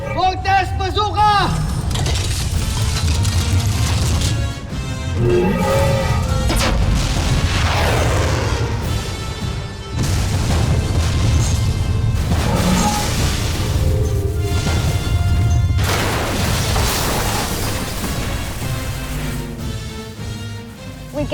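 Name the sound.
Voltes V Voltes Bazooka weapon firing and explosions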